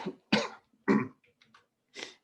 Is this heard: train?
no